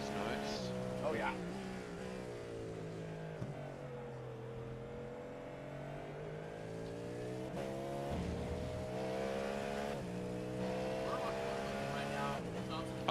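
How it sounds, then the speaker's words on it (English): Race car engine in iRacing at Daytona, a steady loud drone with shifting harmonic pitch as the car works through corners, tires loaded under it, continuous throughout with commentators talking over it. "you can hear them tires working"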